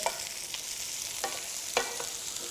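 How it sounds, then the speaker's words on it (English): Pumpkin and capsicum pieces being stirred in a hot pan for ratatouille stew, a few scraping strokes over a steady sizzle, close and fairly quiet with no talking. "and the pumpkin. Give that a good stir around."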